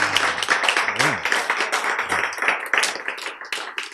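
An audience at a Bible lecture claps steadily throughout, close and energetic, while a voice talks briefly over the clapping.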